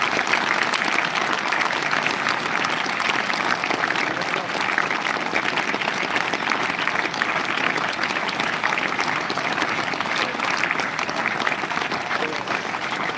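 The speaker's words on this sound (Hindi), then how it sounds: "एक बार जोरदार तालियों से पहले" Loud, sustained applause from a seated audience at a Hindu satsang gathering, dense and steady clapping filling the whole stretch without letup and no speech over it.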